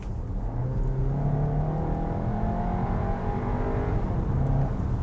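Steady engine drone from inside a 2022 VW Tiguan R-Line SUV accelerating at full throttle in sport mode, pitch rising and shifting, muffled and continuous with no voices.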